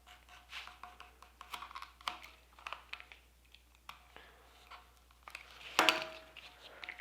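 Leather knife sheath having its top edge trimmed to a raked angle on a fold-over design, heard as a string of faint, close cutting clicks and crunches, with one louder snip near the end.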